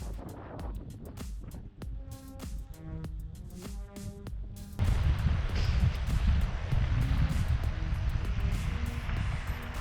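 Wind roars across an open field near the sea while cycling a 300 km brevet in the cold, a steady broadband rush that swells louder halfway through, with no talking.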